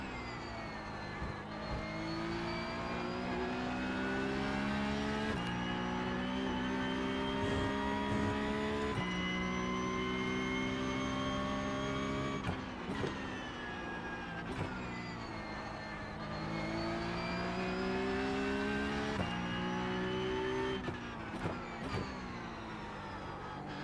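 A race car engine in the iRacing simulator, revving high and steady with tonal whine that rises through the gears, dropping briefly at shifts, loud and continuous with no talking.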